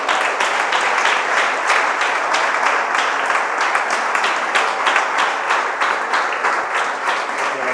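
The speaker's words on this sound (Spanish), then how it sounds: "Le damos un aplauso a Dios por la vida de ellos." A church congregation applauds together in sustained, dense clapping that holds at an even, loud level throughout with no pauses.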